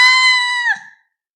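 A woman's high, sustained scream rings out alone at close range, holding a strained pitch for most of a second before breaking off and cutting to silence.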